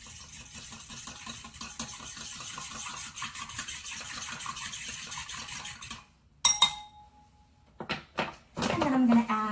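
A utensil stirs flour and water into a sourdough starter in a bowl, a rhythmic scraping and clinking that runs steadily before giving way to a few louder knocks and clinks near the end.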